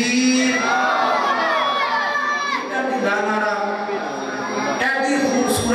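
A gathered crowd at a religious Milad gathering answers a Takbir chant, loud massed voices shouting in unison, swelling and sustained with a brief dip midway before rising again.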